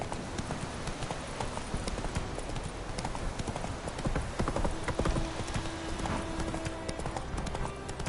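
A horse gallops in a PS4 video game, with rapid rhythmic clip-clop hoofbeats running continuously at moderate volume under faint game ambience.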